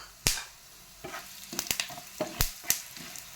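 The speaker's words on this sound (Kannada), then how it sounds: "ಧನಿಯಾ ಸ್ವಲ್ಪ ಹುರಿದ ಮೇಲೆ" Coriander seeds frying in coconut oil in a pan give a soft background sizzle broken by several sharp, crisp pops and clicks as the seeds are stirred, close and intermittent.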